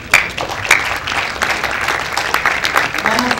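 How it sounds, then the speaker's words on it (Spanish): An audience applauds steadily at a diploma and insignia ceremony held by an engineers' council in Lima. Dense clapping fills the whole stretch without a break, with a few louder swells. "si es que quieren aplaudir con más fuerza, no nos enojamos"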